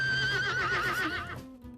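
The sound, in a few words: horse neighing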